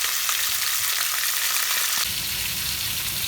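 Poultry pieces browning in a pan for a brown stock give off a loud, continuous close sizzle, a bright hissing fry that thickens slightly near the end.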